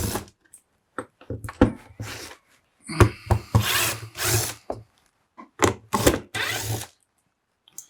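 Screws being backed out of a Makita DVC750LZ 18V LXT brushless L-class vacuum cleaner during a teardown: close, irregular bursts of scraping and rubbing clicks separated by short pauses.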